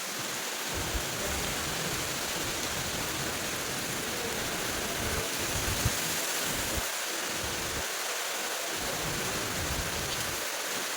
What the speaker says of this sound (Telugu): బయట వర్షం పడుతుంది